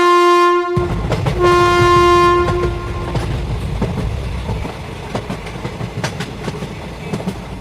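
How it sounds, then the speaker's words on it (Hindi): A cartoon train pulls in, sounding two loud sustained horn blasts. A rumbling, rhythmic clickety-clack of wheels and scattered metallic clanks follow as it arrives. "ये लोग बातें कर ही रहे थे कि तभी यहाँ इन लोगों की ट्रेन आ जाती है।"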